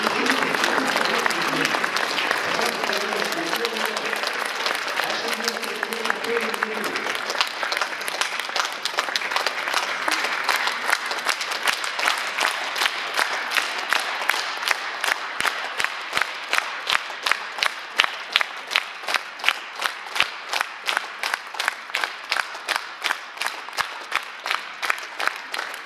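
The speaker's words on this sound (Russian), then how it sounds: "Владимир Иванович, похлопаем" An audience applauds at an 85th-birthday celebration, sustained clapping that grows into rhythmic, unified beats toward the end, with a brief voice heard early on.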